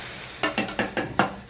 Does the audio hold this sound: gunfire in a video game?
no